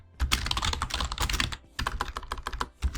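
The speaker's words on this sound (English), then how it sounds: "If I could actually type." Rapid keystrokes clatter on a computer keyboard in quick bursts, with a brief pause midway before the typing resumes, close and clear with no talking.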